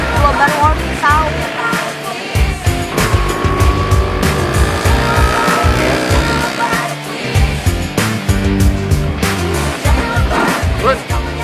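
A Vespa scooter engine runs loud and close, its buzzing note rising and falling over several seconds, while a person speaks over it.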